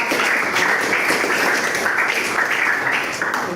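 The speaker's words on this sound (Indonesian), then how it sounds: "Oke, tepuk tangan untuk kelas" A class of students in a classroom lesson claps together loudly and continuously, a dense, close round of hand-clapping lasting a few seconds without speech.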